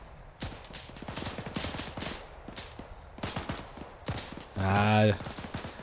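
Gunfire from WWII weapons in the Arma 3 video game, a rapid rattle of sharp shots in uneven bursts with distant reports, a voice briefly heard near the end.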